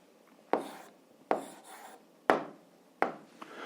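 Four distinct scratchy strokes of a pen or pencil on paper, writing an algebra answer by hand, each a sharp near stroke followed by a short rub, spaced roughly a second apart with quiet between.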